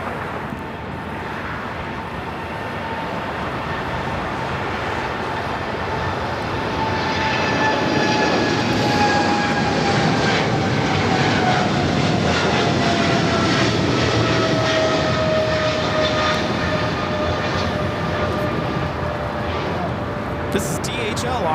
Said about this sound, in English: This is DHL, operated by Polar Air Cargo 962, taking off to Cincinnati on a 777 freighter.